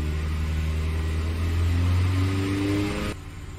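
A car engine with a throttle body and rough idle problem rises in pitch as the gas pedal is pressed, a close, steady rev that swells and then drops abruptly back toward idle.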